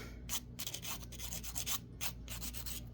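Edge of a leather earring filed smooth with a glittery nail file, giving steady rhythmic rasping strokes, close and fairly loud, no talk.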